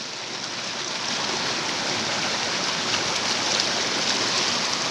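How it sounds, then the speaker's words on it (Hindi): Swollen night-time stream in flood, brown water rushing steadily through a channel in Baltistan, a dense continuous roar that stays loud and unbroken throughout with no voices. "ये रात का वक्त है और नदी नालों में तुगयानी आ गए। देखो पानी ही पानी पानी पानी हो गया है।"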